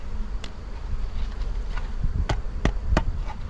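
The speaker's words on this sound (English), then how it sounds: "Shake those bees in there." Steady insect buzzing from a captured honeybee swarm fills the background, with a few sharp knocks and taps breaking through near the end as bees are shaken into a box.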